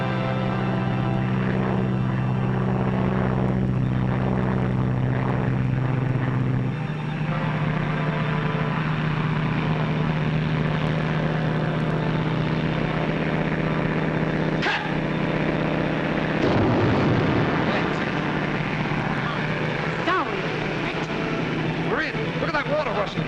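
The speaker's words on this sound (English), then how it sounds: "The plane, look!" A propeller airplane engine drones overhead in a continuous loud, rumbling hum, with voices and other background noise mixed in.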